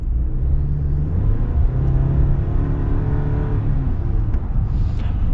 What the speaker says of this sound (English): we're going to get another acceleration here, and so you guys can hear the turbo sounds